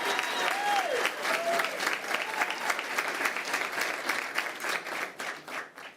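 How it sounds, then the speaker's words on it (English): An audience at a regular school district board meeting claps steadily for two honored men, dense and sustained, with a couple of rising whoops or whistles early on before the clapping thins slightly toward the end. "can we give those 2 men a big round of applause as well"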